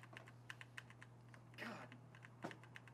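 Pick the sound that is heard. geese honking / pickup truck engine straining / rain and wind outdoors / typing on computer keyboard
typing on computer keyboard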